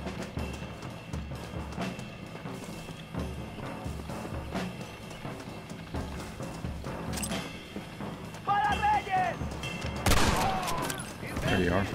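Gunfire in Red Dead Redemption during a train fight, with repeated bursts of shots and booms over a steady rumble, growing louder near the end, while someone talks over it.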